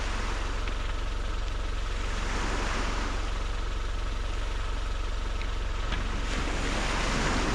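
Sea surf washes steadily against a shoreline on Anglesey during bass fishing, a continuous loud roar heavily mixed with wind buffeting the microphone and no talk.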